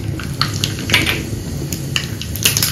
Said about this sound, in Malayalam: അതൊന്ന് നന്നായി ചൂടായി വരുമ്പോൾ നമുക്കതിലേക്ക് അര ടീസ്പൂൺ കടുക് ചേർക്കാം.